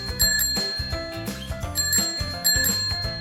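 An ice cream vendor's bicycle bell rings in quick repeated bursts of bright metallic dings, close and fairly loud, with no voices over it.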